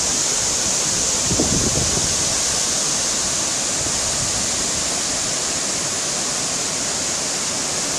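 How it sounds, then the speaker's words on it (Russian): Steady broadband roar of the Shumny waterfall at the Rufabgo falls in Adygea in early spring, loud and continuous throughout, with a brief louder splash burst early on and no voices. "Водопад называется Шумный."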